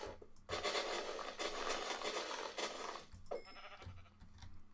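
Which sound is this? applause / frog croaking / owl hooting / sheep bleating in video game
sheep bleating in video game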